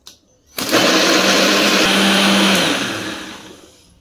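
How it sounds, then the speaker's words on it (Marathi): A mixer grinder grinding spice paste with a little water switches on with a loud, steady whirring roar that holds for a few seconds, then winds down. "मिक्सरला लावून वाटून घेऊया गाईस."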